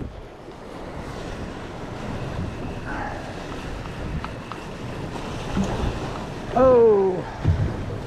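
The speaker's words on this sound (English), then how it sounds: "big waves" Large ocean waves roll and wash continuously off Cape Cod, heard from a boat with wind buffeting the microphone, while a voice briefly exclaims near the end.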